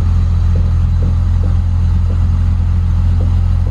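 A car engine idles in a low, steady rumble while the clutch is tested for its bite point, close and continuous with faint periodic ticks.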